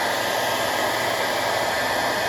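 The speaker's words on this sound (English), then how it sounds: "I'm just using my wife's hair dryer" A hair dryer blows steadily at close range while heating Camaro door moldings for removal, a continuous loud whooshing roar with no breaks.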